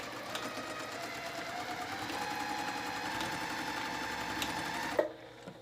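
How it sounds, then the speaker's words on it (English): Sewing machine stitching back and forth on a child's dress, a steady close whirring drone for about five seconds that stops abruptly with a click. "So don't forget to back stitch where you start and where you end."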